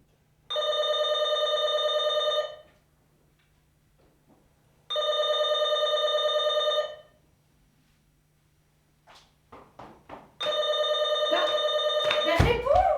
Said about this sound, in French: Mais t'entends pas que ça sonne?